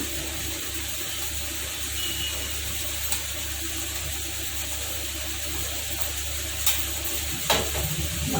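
Ivy gourd pieces drop into cooked-down masala in a pan and sizzle, a steady broad hiss with a low hum underneath and a few brief clicks and scrapes near the end, no voices.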